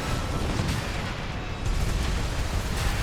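Quad Gatling guns blazing in Armored Core 6, a dense roaring stream of rapid-fire shots and booming impacts that runs loud and continuous for the whole stretch, with no voices.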